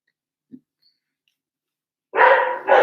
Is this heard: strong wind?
no